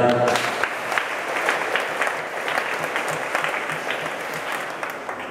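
Applause rings out in a church during a wedding mass to welcome a priest, an opening burst of clapping that settles into steady, moderately loud hand claps with a light crowd murmur.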